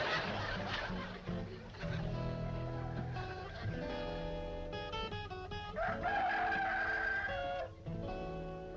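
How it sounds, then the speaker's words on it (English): A rooster crows loudly in a scene from a 1960s rural television comedy, giving a long strained call over a busy background of other sounds. "That's an actual rooster."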